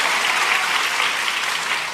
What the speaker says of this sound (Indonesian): Tepuk tangan dong, mana yang bagian sponsor tepuk tangan tadi tuh?